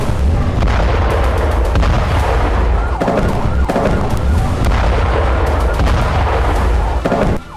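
Israeli army tank and artillery bombardment during a ground operation in Gaza: loud, rapid, repeated booms and blasts over a constant roaring rumble, with no pauses.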